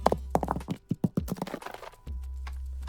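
Rock impact sound sample for game debris design: a quick run of sharp, clattering knocks over about two seconds, then a low steady hum with no further hits.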